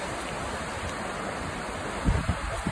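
The lower falls of Latourell Falls in the Columbia River Gorge, Oregon, pour with a steady broadband hiss and roar, joined near the end by a burst of low wind buffeting.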